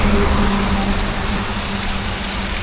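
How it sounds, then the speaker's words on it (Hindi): Heavy rain pours down outside a house while drains overflow and the street floods, a dense, steady hiss of downpour close by and loud, with no talking. "खूब तेज़ी से बारिश हो रही है"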